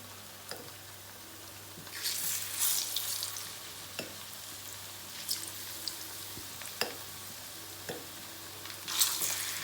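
Plantains frying in a pan of hot oil, a soft steady sizzle and bubbling with occasional sharp pops and taps from a fork, close and quiet, with no talking.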